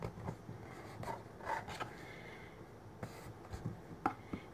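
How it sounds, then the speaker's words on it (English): Paper edges on a photo storage box being burnished, giving soft intermittent rubbing and scraping strokes, close and quiet, with short bursts and pauses between passes. "Neatly burnishing all the edges."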